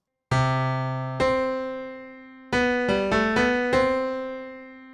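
A short instrumental melody opens with a leap of an octave, the notes struck cleanly and left ringing, with a pause before a quicker run of notes.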